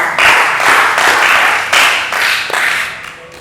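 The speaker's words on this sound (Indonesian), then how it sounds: "Beri aplaus dulu temennya." Classroom applause for a student group that has just finished presenting, a dense burst of many hands clapping in waves that swell and ease for a few seconds, close and fairly loud with no talking over it.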